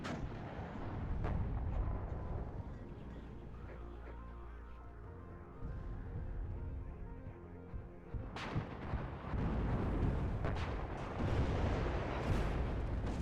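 Artillery fire in the WARNO strategy game, on a Russian Civil War tournament map: a low rolling rumble, then a sharp heavy boom, followed by further thumping impacts and crackle.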